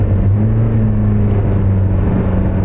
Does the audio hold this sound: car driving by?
yes